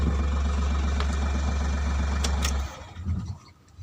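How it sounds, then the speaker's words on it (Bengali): Ashok Leyland Dost Plus pickup with its engine running steadily and loud, close up, then cutting off near the end, leaving quieter shuffling sounds. "এখন অন করি অন হয়েছে গাড়ি কিন্তু অন হয়ে গেছে"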